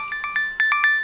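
A bright electronic ringtone plays a quick, repeating pattern of short tones, close and clear, with no talk.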